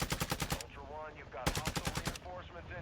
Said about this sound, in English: You can hear the bot shooting in there.